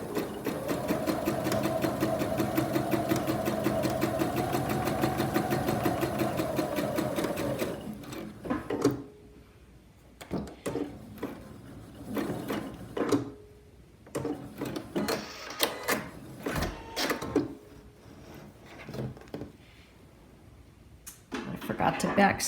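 A sewing machine stitches a fabric mask in a long steady whirring run, then stops for short back-stitching bursts and handling noises while a person talks.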